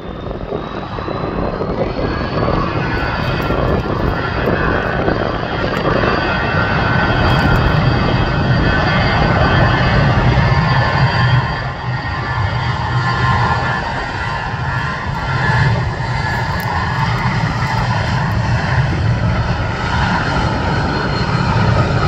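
A firefighting airplane's engine roaring through its takeoff run, a loud, sustained propeller drone with steady strong rumble and a slight rising whine, continuous and dominant throughout.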